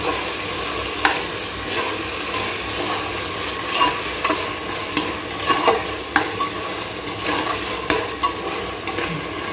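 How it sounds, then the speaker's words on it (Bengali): Sliced onions with a pinch of sugar are stirred in a hot pan with a spatula, giving repeated scraping strokes over a constant close sizzle, with no voices. "এবার একটু সামান্য পেঁয়াজের মধ্যে একটু অল্প চিনি দিয়ে দিলাম, ভালো করে নেড়ে দেবো"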